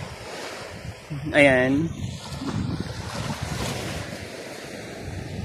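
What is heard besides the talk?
calm sea waves at a white sand beach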